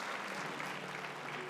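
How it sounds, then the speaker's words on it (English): Applause from the audience at a Miss Universe Malta pageant for the semi-finalists, a steady, dense patter of many hands, fairly faint and distant with no voices. "Round of applause, please, ladies and gentlemen."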